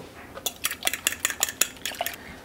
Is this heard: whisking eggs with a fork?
yes